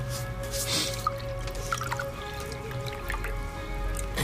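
Wine trickles and drips into a glass in a pub, a soft liquid pour set against steady background hum and faint room noise.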